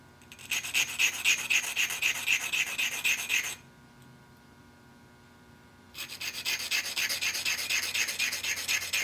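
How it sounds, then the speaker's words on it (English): Rhythmic scraping strokes of a small drill bit being rubbed on a sharpening stone, two bursts separated by a brief pause, close and moderately loud. "Sometimes you can sharpen these little drills pretty quick with a stone."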